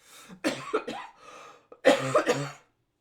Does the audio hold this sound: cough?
yes